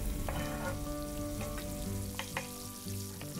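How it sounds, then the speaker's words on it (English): Onions and garlic fry in hot oil, giving a steady close sizzle throughout, with occasional clinks and scrapes of stirring in the pan. "I think by this time our oil is good hot. Let's get the onions and the garlic in here."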